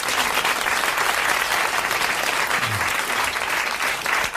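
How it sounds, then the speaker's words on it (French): Studio audience applause on a 1982 French television show, dense and loud continuous clapping that holds steady for a few seconds with no voices over it. "Vous applaudissez Monsieur Clède du Chanet"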